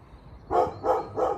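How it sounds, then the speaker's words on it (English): A neighbouring dog barks three times in a steady rhythm, each bark clear and moderately loud from next door, with faint background noise between barks and no speech. "next door's dog barking its head off"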